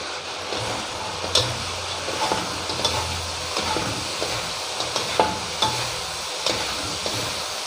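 Crispy fried tilapia stir-fried in a hot pan with a sizzling sauce, a steady sizzle broken by regular scraping and clanking strokes of the spatula, close and loud, with no talking.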